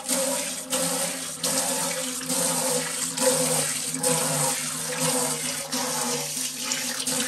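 Water pours steadily from a tap into a kitchen sink, a constant close splashing rush with slight fluctuations throughout.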